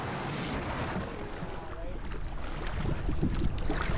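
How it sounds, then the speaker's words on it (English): Strong gusting wind at Waterton Lake in Waterton Lakes National Park, a loud roaring buffet of broadband rush against the microphone that builds slightly toward the end, with a voice faintly mixed in. "That wind is going to be really hard."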